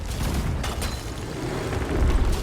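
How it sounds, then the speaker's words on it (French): Ship cannon fire in the pirate game Sea of Thieves, booming blasts and rumbling impacts that overlap into a continuous, loud barrage with low thuds rising again near the end. "mais le bruit du canon lui-même"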